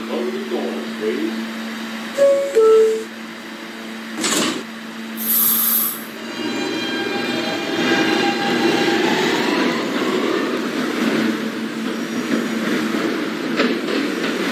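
Train noise from a Brooklyn-bound New York subway Q train running via the R line at Whitehall St–South Ferry station, a steady rumbling roar with brief squeals and bangs, heard close and continuous throughout.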